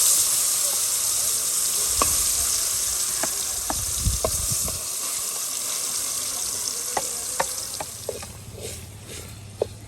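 Food frying in hot oil in a home kitchen gives a steady, loud sizzle, with occasional sharp pops and a few stirring clacks over it.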